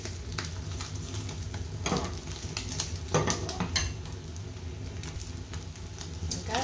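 A beaten-egg omelette with flowers frying in a pan and being flipped, with a constant crackling sizzle broken by several sharp metal utensil clinks and scrapes against the pan.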